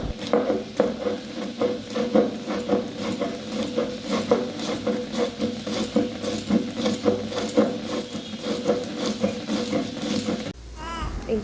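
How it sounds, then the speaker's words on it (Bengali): Black and white mustard seeds with cumin and salt are ground by hand on a stone slab with a stone roller, giving a rhythmic, repeated scraping and grinding close by, with a short pause near the end. "আমি শিলনোড়াতেই বাটবো।"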